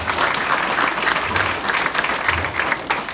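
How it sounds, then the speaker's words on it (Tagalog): An audience at a company head office breaks into sustained applause, a dense steady patter of many hands clapping at close range with a crowd murmur, no clear speech over it. "Wala bang palakpak?"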